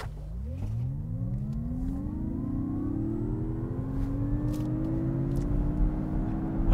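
A 2022 Mazda MX-30 GT electric car, launched without launch control, accelerates with a rising electric motor whine climbing steadily in pitch over road and tire noise. The sound is close and continuous, with no talk.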